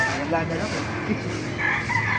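A rooster crows over a dense backdrop of clucking chickens, turkeys and other fowl at a market, fairly close and continuous.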